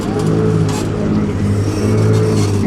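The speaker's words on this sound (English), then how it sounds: "going around the corner is a Lamborghini" A close, loud car engine drones steadily as a Lamborghini rolls around a corner at the 2007 Concorso Villa d'Este concours, a low rumbling tone holding without pause through a short stretch.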